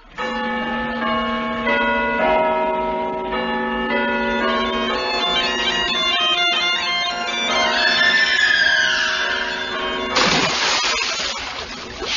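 Bells ring in a layered, sustained peal, tones overlapping and ringing on, followed near the end by a sharp crash of noise.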